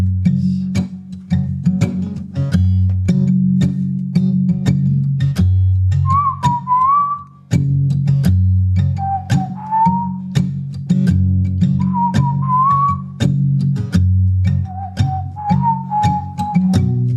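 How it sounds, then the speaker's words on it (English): A person whistles short, warbling bird-like phrases at intervals over a steady, looping low accompaniment, the whistled notes clear and close. "Whistling too like a bird"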